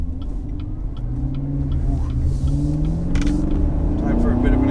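A car accelerating, with engine tones climbing steadily in pitch and growing slightly louder as it pulls away, the rising drone continuous throughout.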